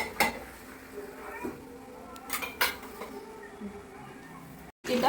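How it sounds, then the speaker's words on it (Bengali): A lid goes onto a cooking pan of chicken and potatoes, producing a few metallic clinks and clanks spaced over several seconds above a quiet kitchen background. "এবার ঢাকা দিয়ে দেবো।"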